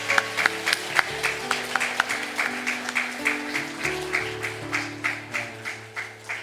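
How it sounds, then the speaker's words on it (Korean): A church congregation at a Korean Sunday worship service claps in celebration. The claps are soft and fall in a steady, even rhythm over sustained organ-like tones. "우리 박수로 축하하겠습니다."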